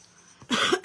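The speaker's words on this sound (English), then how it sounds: "This cough is just hanging on." One sharp, close cough bursts out after a quiet moment and is followed by a brief rough tail.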